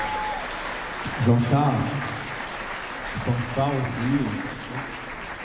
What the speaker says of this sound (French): Vos applaudissements, mesdames et messieurs.